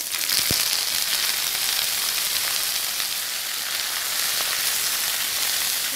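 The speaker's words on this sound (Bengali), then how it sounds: "এবার আমি ঝিঙেগুলো দিয়ে দিচ্ছি" Ridge gourd pieces dropped into hot oil with nigella seeds and dried red chilli, giving a loud, continuous dense sizzle close by with a couple of faint clinks, no voices.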